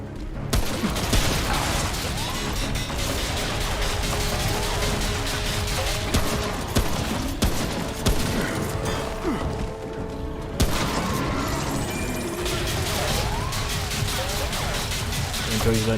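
Boss gunfire in the video game Remnant: From The Ashes, rapid repeated shots and booming impacts in a sustained loud barrage over a busy game mix, with a player talking over it.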